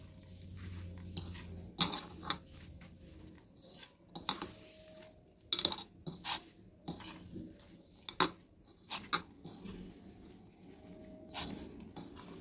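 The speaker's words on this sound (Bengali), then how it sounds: "ভালো করে চিড়াটা চটকে নিচ্ছি।" Flattened rice (chira) is being mashed by hand in a large bowl, giving soft, irregular squishing and rustling with sharper clicks against the vessel, close and fairly quiet.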